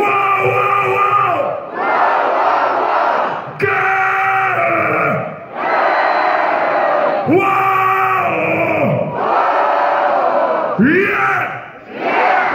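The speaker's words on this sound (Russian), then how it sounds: "но кричать можно было и погромче" A large concert crowd roars and shouts in repeated waves, each loud surge of massed yelling lasting a couple of seconds before dipping briefly, dense and close throughout.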